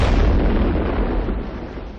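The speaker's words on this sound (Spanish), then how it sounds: "El crucero de guerra Aurora efectúa un disparo de salva." A broadband blast of a salvo shot from the war cruiser Aurora, a single heavy boom whose rumble sustains loudly across the full two seconds and then tapers slightly, with no voices.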